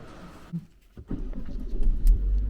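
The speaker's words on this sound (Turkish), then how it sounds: "Çalıştırdım arabayı." A newly bought car's engine cranks and catches, then settles into a low, rising rumble that grows louder and stays steady, heard from inside the car with no talking.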